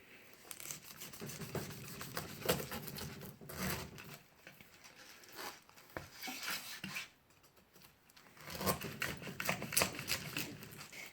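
A big knife cuts through a large pineapple, splitting it in half with rough rasping, rubbing strokes and crunchy tearing of the fibrous fruit, close and steady, with short pauses between strokes.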